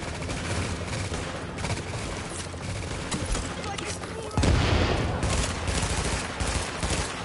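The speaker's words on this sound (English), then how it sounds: "it's a burst fire" Burst-fire gunshots in The Division video game, a dense stretch of rapid rifle fire that grows louder and harsher partway through, with a voice talking faintly underneath.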